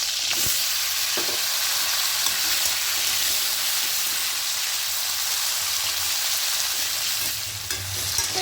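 Potatoes sizzle and fry in a pan with tomatoes, as a vegetarian cauliflower and potato poppy-seed dish is cooked; a steady, close, bright hiss runs throughout, with a few faint clinks of stirring and no speech.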